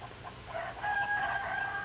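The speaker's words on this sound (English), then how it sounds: "the children are giving the chickens their breakfast" Chickens on a Dutch family farm in Holland being fed breakfast by children, with a short burst of clucking and a high crowing call rising over a steady farmyard background.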